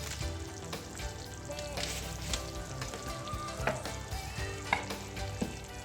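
Chopped onions sizzle and fry in a pot of chicken korma with yogurt, a steady dense crackle with faint stirring clinks throughout.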